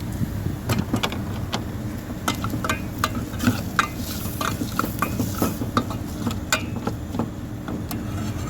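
Elephant yam stir-fry with kuzhambu masala and Kashmiri chilli being stirred in a pan, rapid repeated metal scraping and clinks over a low sizzle, close and busy throughout.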